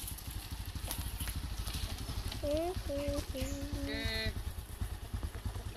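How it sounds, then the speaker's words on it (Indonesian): A motorcycle setting off on an Indonesian road, its engine chugging steadily up close, while voices talk over it briefly. "Kita mau jalan naik motor ya."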